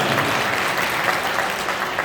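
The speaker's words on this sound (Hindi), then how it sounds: "एक बार जोरदार ताली" Loud, continuous applause from the audience at a Hindi poetry gathering in Chitrakoot, a dense unbroken wash of many hands clapping with no voices over it.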